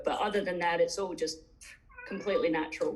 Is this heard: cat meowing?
yes